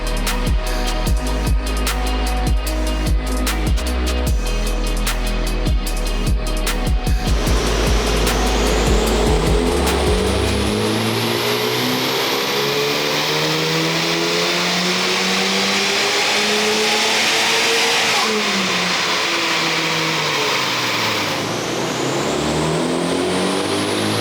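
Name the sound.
Honda Civic Type R FL5 engine warming up, stock intake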